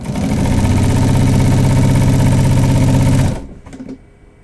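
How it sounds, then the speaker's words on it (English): Sewing machine quilting a row through fabric with red toile, a loud, steady close-up motor whir running continuously for over three seconds before stopping abruptly, leaving faint handling clicks. "let's go ahead and quilt this with this red toile"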